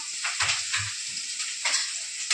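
Onions and green chilies stirred in a hot pan: a brief burst of sizzling with a few close spatula scrapes and knocks.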